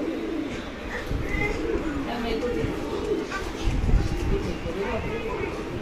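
Pigeons in a loft give repeated soft, low coos and some chirps, heard alongside someone speaking throughout.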